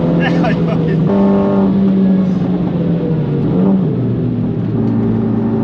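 A 430 hp Renault Megane R.S. driven hard through Schwedenkreuz on the Nürburgring, its loud in-car engine drone holding steady, then dipping and rising in pitch with gear changes, while people talk over it.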